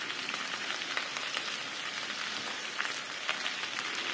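Okra and green chilies fry in a pan with a constant, close sizzle and faint crackling pops scattered through, steady in level with no talking.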